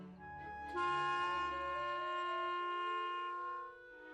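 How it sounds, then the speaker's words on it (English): A sustained clarinet note played with no keys pressed, clear and steady with reedy overtones, holds for about three seconds and then tapers off, played alone without speech. "this time making a sound into the clarinet without pressing any buttons."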